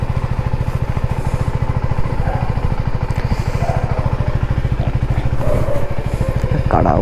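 A KTM Duke 390 motorcycle idles close by as it warms up, with a fast, steady single-cylinder putter throughout, while someone talks over it.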